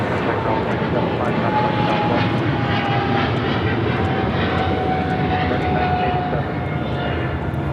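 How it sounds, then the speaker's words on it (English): Aerologic DHL Boeing 777 freighter taking off at LAX, a loud continuous jet roar with a faint rising whine, steady and near throughout, with a voice talking over it. "This is an Aerologic DHL Flight 473. It's a 777 freighter."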